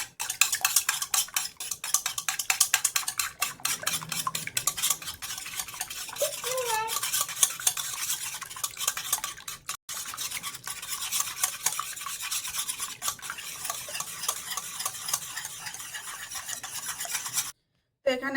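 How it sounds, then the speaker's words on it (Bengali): Eggs beaten with a pinch of salt in a bowl for a sabudana pitha batter: a fast, steady clatter of whisking strokes runs close and continuously, breaking off briefly near the end. "এবারে ভালো করে ডিমটা ফেটিয়ে নেব।"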